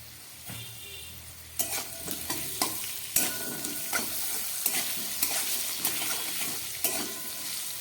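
Potatoes fry with salt and turmeric in a pan for a Bata fish curry, a steady close sizzle broken by repeated sharp scrapes and knocks of stirring, with no talk.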